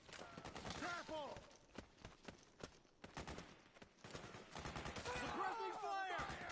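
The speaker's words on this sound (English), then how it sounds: "Suppressing fire!" Gunfire in the video game Metal Gear Solid 4 comes as rapid bursts of shots mixed with shouted voices, fairly quiet overall in a busy combat scene.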